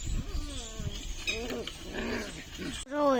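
Two dogs being tied up whimper and yelp in short, rising cries, close by, while people talk intermittently in the background.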